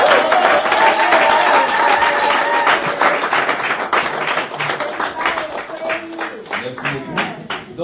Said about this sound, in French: nous pouvons encore applaudir maintenant pour la gloire